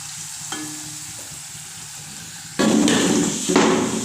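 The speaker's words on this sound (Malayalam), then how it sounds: "ഇതൊന്ന് ഒരു ബ്രൗൺ ആവണ വരെ ഒന്ന് നമുക്കിങ്ങനെ ഇളക്കി കൊടുക്കാം" Tapioca (kappa) pieces frying in hot oil while being stirred until brown: a steady low sizzle that swells into a loud, dense crackle from about halfway, with a brief louder burst near the end.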